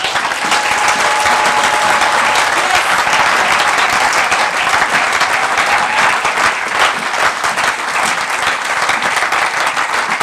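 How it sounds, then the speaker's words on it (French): A church congregation applauds loudly during a French-language sermon, a dense, sustained clatter of many hands at close range that continues throughout without pause. "Est-ce que vous pouvez acclamer pour le Seigneur?"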